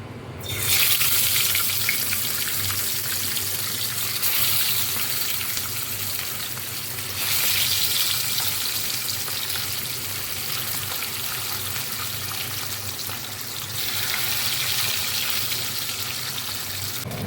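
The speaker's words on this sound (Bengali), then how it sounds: "তেলটা গরম হয়ে গেছে এবার এই তেলে আমি মাছগুলো ভেজে নেবো" Fish fry in hot oil for a bata fish curry with beans, a loud steady sizzling hiss close by that swells and settles in waves throughout.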